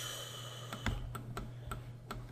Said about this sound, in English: Here, let me type that in.